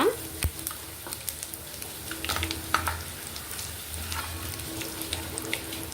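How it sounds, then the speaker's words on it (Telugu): Garlic and a pinch of asafoetida sizzle in hot oil as a tempering for ginger chutney, with the gas just switched off; a steady crackling fry continues throughout with a few sharp pops and utensil clinks, fairly close and without speech. "ఇప్పుడు వెల్లుల్లి కొంచెం ఫ్రై అవ్వాలి"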